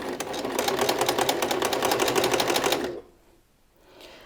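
Sewing machine winding thread onto the bobbin, a fast steady whirring rattle close up for about three seconds before it stops abruptly.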